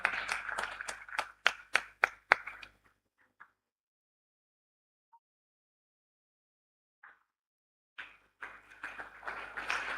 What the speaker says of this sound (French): Madame la vice-présidente, Ndeye Fatou, on applaudit bien fort